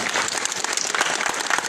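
Loud crowd applause at a civic swearing-in ceremony in a Oaxaca town, an honoured guest welcomed with vigorous dense clapping close at hand, sharp individual claps standing out, no speech over it.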